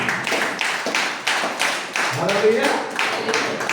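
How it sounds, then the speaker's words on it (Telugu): A congregation claps loudly together in a steady, rhythmic beat of broad bursts, roughly two per second. Speech overlaps part of the clapping. "చప్పట్లు కొడతాం గట్టిగా."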